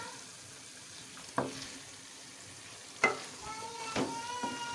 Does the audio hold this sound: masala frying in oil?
yes